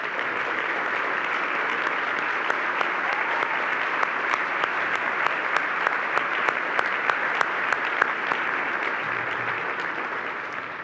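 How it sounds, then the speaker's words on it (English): Dinner crowd at the 2018 Bay County Chamber event applauding military guests, a sustained, even wash of many hands clapping with a few sharper claps standing out, lasting about ten seconds. "let's give them a big round of applause for them being here tonight"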